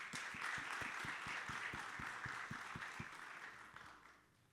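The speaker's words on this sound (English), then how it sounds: "Let's give her a huge round of applause." An audience at a hospitality leadership conference panel claps, with broad applause and a few distinct, rhythmic close claps, tapering off toward the end.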